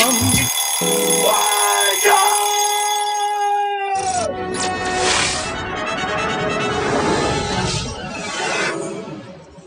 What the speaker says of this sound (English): now I think it's time to ring the alarm